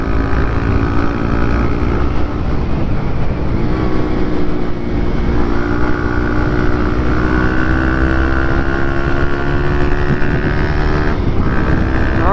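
A 50cc moped engine revs up and pulls away, a loud, close, buzzing two-wheeler drone whose pitch climbs and shifts through gears, running continuously with no talk.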